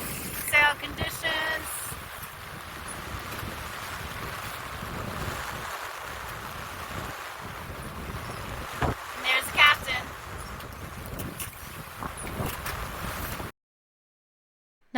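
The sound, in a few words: waves and wind while sailing a boat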